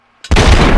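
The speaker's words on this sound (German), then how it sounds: "Ich werfe mal eine Granate." A grenade goes off in Fallout 3. A short thump is followed by a loud, sustained roaring blast that fills the rest of the moment, close and with no voices.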